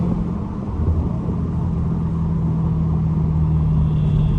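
A Dodge Hellcat driving through city streets gives a loud, steady, deep engine rumble from inside the car with no let-up, and no voices over it.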